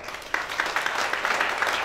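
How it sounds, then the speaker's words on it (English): Audience applause for a speaker at an event honouring the founder of a new institution, a steady patter of many hands clapping over about two seconds, moderately loud and without talk. "Once again, a lot of applause for Mr. Adil Khan,"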